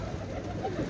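A pair of kagzi pigeons gives a faint, low cooing murmur, soft and close over a quiet steady background.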